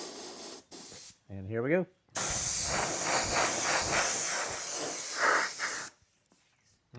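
Aerosol spray can laying a coat of Parma fast fluorescent pink onto a Kyosho Dune Master RC car body, a steady close hiss lasting several seconds after a few brief voiced words and short rattling sounds.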